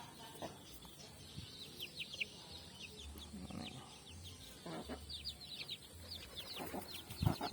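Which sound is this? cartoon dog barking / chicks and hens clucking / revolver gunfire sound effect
chicks and hens clucking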